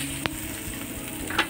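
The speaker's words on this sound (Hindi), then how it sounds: "यहाँ पर हमने 2 से 3 मिर्ची ली है और इसे ऐसे से भून लेंगे।" Chopped green chillies fry in a pan for a samosa filling, giving a steady close sizzle with a couple of brief clinks from a utensil, no talking.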